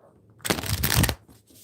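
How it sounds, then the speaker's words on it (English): Tarot cards are shuffled in one quick, close riffle burst lasting about a second, crisp and papery against a quiet room. "Let's do two more shuffles of these ones."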